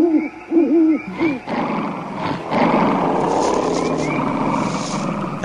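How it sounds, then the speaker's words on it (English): Wild animals and birds in a thick forest, opening with repeated owl-like hoots, then a long, rough roar that swells and holds loud and near to the end. "The frightening noises of wild animals and birds could be heard."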